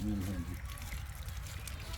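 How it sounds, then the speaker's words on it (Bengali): Water pours and trickles over an egg as it is rinsed after being boiled in the ground over a fire, a steady splashing stream close by, with a voice briefly talking over it at the start. "ডিমটা ধোয়া হচ্ছে"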